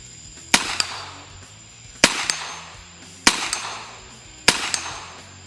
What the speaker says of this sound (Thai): เพลท 10นิ้ว ระยะเกือบ 50 เมตรทดสอบยิง 4 นัด เริ่ม